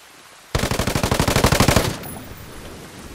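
Rapid automatic gunfire in a tactical shooter video game, a single loud burst of about fifteen evenly spaced shots lasting over a second, followed by a fading tail.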